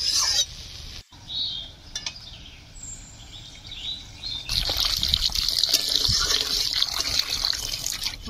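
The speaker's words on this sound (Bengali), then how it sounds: "ওপর থেকে অল্প পরিমাণ জল দেবো।" Small amount of water poured from above into a pan of fish curry with mashed dried mango, a steady trickling splash that grows louder and denser toward the end, with no talking.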